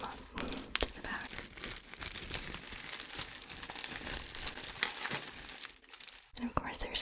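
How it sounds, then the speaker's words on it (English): Tissue paper inside a vintage item crinkles and rustles close up in soft, continuous bursts of crackling, quiet and intimate, with faint whispering alongside. "And of course there's some tissue paper inside, which makes a nice sound."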